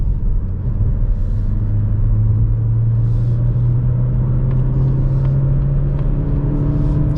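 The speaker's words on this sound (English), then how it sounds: "So you can spin the car in the 3rd gear" A 2020 Mazda CX-30 with a SkyActiv X 180 hp engine revs in third gear on a night drive, a loud, steady cabin drone whose pitch climbs smoothly as the engine spins up.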